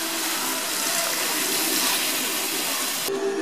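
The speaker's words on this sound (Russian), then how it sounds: "Добавляем кружку родниковой воды." Spring water poured from a mug into a cooking pot, a steady close splashing gush lasting about three seconds before it stops abruptly.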